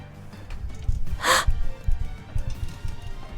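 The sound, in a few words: voice imitating a gasp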